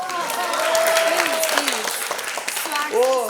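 An audience at a press event for a reality TV show claps in a brief burst of scattered applause while voices talk over it.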